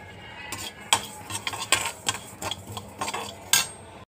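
Sesame seeds dry-roasting in a kadai on a stove, stirred with a metal spatula: repeated sharp scrapes and clinks against the pan in an irregular rhythm over a faint background, close and moderately loud, no talking.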